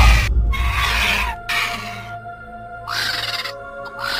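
Vulture cry used as a sound effect in a Hindi horror story, harsh screeching calls in three loud bursts separated by short gaps, with a low rumble underneath at the start.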